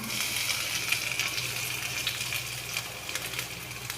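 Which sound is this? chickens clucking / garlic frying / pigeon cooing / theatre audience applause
garlic frying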